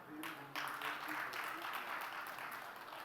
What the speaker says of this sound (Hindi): प्रेम वत्स के लिए तालियां